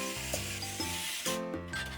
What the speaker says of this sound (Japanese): ネジ止めをして